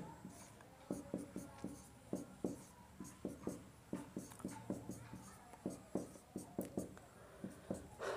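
Chalk or marker strokes tap and scrape on a board during a chemistry lesson, a steady rhythm of short, close, distinct writing strokes repeating throughout, with no talk over them.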